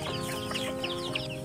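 Native backyard chickens of shamo crossbreed cluck together in a steady, busy chorus, with several birds close by and overlapping calls throughout.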